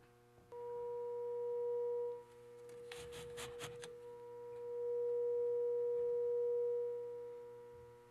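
Resonating tubes sustain a steady pure tone from a standing sound wave, swelling and fading softly over a faint background hum, with a brief burst of noise in the middle.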